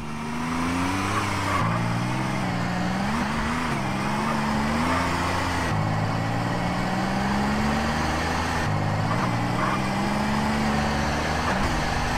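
A car engine in the video game GTA San Andreas drones steadily while driving, its pitch rising and falling with gear changes and throttle, joined by brief tire squeals, continuous and close throughout.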